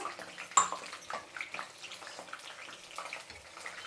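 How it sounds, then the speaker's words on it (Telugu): Hot water splashes and gurgles as it is poured steadily into a pot of cooking dal, close and fairly quiet, with a sharp clink near the start. "చూడండి, వేడి నీళ్ళు పోస్తున్నా నేను."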